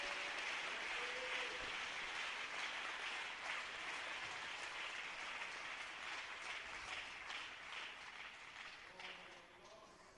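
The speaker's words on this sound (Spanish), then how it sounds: "¿Quiere aplaudirlo?" A church congregation applauds, a sustained wash of many hands clapping heard at moderate distance, steady for around ten seconds and gradually fading slightly toward the end.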